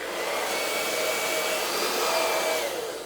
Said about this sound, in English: I'll go on a limb and say I've never done it with a blow dryer. I'm sure it'll work because this thing gets damn hot.